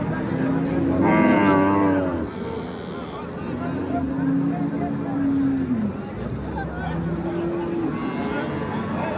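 Cows moo loudly several times at a livestock market in Bulungur District, Uzbekistan, long drawn-out calls close by, amid a busy crowd murmur.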